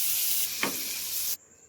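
A tablespoon or two of butter melts and sizzles in a hot pan on a gas stove, a loud close steady hiss with a small thump, cutting off abruptly to quiet.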